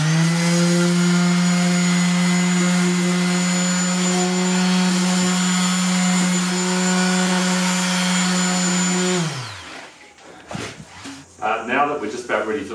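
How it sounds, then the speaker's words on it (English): An orbital sander runs steadily on macrocarpa wood, taking the sharp edges off the corners with a loud, constant whine and hum, then winds down, followed by scattered handling knocks and clatter. "I'm going to use an orbital sander to take the sharp edges off the corners here and"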